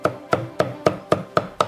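Cleaver chopping pork on a board in a traditional Shunde kitchen, seven sharp, evenly spaced thuds about a quarter second apart, close and loud with no talk.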